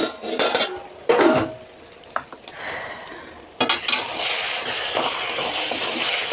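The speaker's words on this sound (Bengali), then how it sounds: "দেখি এবার ঢাকাটা খুলে দেখি।" A lid comes off a pot of cabbage curry with a few clattering metal knocks and scrapes, followed by a steady soft sizzle from the pan.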